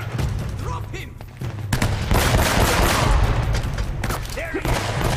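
Rapid bursts of automatic gunfire and shots crackle loudly during a firefight in the video game Uncharted: Drake's Fortune, mixed with shouting enemy voices and a booming, busy combat soundscape.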